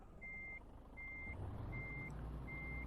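Reversing beeps from a truck in Euro Truck Simulator 2, four evenly spaced steady tones over a low engine rumble that builds slightly as the vehicle backs up, with no talking.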